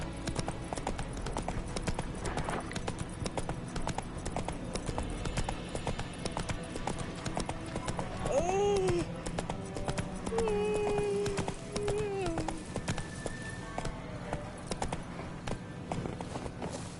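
A horse gallops in The Witcher 3 video game, with steady rhythmic hoofbeats running throughout, a brief neigh partway through, and soft game music beneath.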